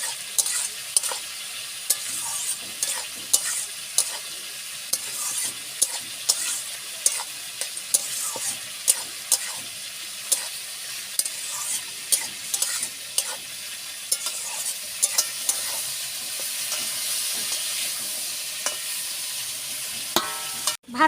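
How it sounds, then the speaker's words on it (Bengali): Whole green and ripe chilies fry in a pan, a steady sizzle broken by frequent sharp scraping stirs from a spatula, close and busy throughout with no talking. "কাঁচা পাকা লঙ্কা একটু ভালো করে দিয়ে আমি ভেজে নেব।"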